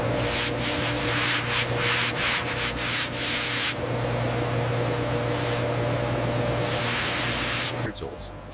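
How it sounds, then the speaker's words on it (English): A loud leather staking machine, its rapidly vibrating blunt metal fingers working ostrich leather, grinds and rubs continuously with a steady hum, its harsh buzzing texture pulsing in bursts before winding down at the end. "the leather passes through a staking machine, where rapidly vibrating, blunt metal fingers flex and work"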